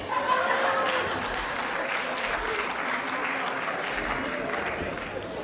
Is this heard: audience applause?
yes